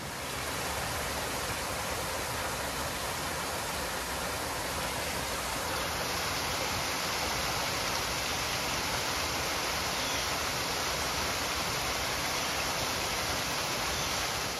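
Waterfall beside a gazebo in Kanapaha botanical gardens, a steady, broad rushing wash of falling water, loud and unbroken throughout.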